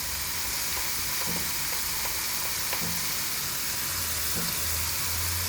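Brinjal pieces with salt and turmeric fry in a pan with a steady, dense sizzle, with a few soft scrapes of stirring underneath, close and constant.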